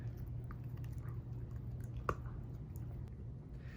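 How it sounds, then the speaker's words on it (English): A person chews quietly, picked up by a smartphone microphone, with soft, faint mouth sounds and one small crunch over a steady low hum, and no talking. "You can hear her chewing on that, which is really quiet."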